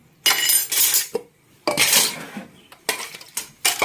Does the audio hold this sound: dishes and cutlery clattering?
yes